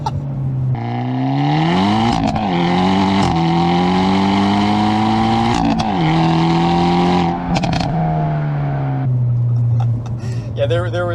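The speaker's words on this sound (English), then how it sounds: "Yeah, there was a lot of wheel spin." A Hyundai Elantra N fitted with an SXTH downpipe revs hard during wheel spin, a loud close engine roar climbing and dropping through several surges before settling to a steady drone, with voices talking over it.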